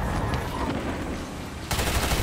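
A submachine gun firing in a Destiny Crucible player-versus-player match, heard as a steady stream of rapid shots that briefly drops back and then returns louder near the end.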